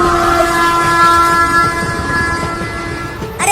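A cartoon train rolls along with a steady rumble and rail clatter while its horn sounds a long, loud, sustained tone over it, close and continuous throughout.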